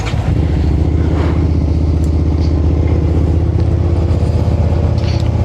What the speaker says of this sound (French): Je peux allumer ma moto?